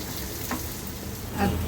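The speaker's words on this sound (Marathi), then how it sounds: "आता हे आपण किसलेलं खोबरं टाकूया ते पण लालसर भाजून घ्यायचं" Grated coconut, garlic cloves and onion roasting in a pan for spicy maswadi, giving a low, steady frying crackle with a couple of soft stirring scrapes, the louder one near the end.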